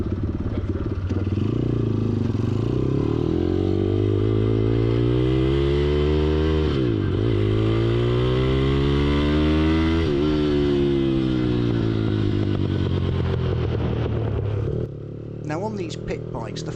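A pit bike motorcycle circles a race track, its engine droning loud and close as the pitch swells and sinks through repeated revs and gear changes, then drops off near the end.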